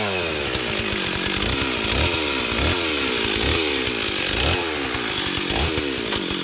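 A big chainsaw cuts into a hickory log, its engine roaring loud and close with rhythmic pitch dips as the chain bites the wood, running steadily without speech.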